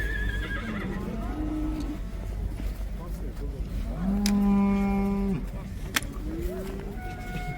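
A cow lets out a long, loud moo amid a busy livestock market crowd in Taraz, Kazakhstan, with other cattle lowing and people talking nearby.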